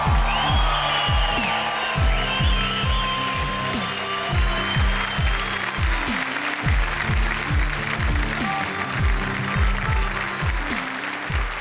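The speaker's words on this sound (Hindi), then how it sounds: "आपकी तालियां सुनकर" A studio audience at a Hindi poetry and comedy show applauds and cheers, a loud, sustained crowd roar layered over a pulsing, rhythmic musical beat that keeps going throughout.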